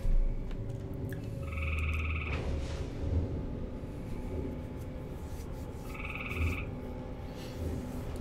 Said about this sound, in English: Frogs are going crazy.